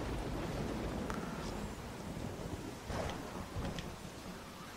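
A thunderstorm in The Walking Dead game rumbles as a dense, steady wash of rain and wind noise, with faint thunder swelling near the middle and no speech.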